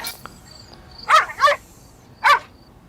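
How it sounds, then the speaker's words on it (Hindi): A dog in a movie scene barks three times in quick succession, two close together and one after a pause, sharp and fairly near over a quiet background. "ये कुत्ता एक जगह देखकर बार बार क्यों भौंक रहा है?"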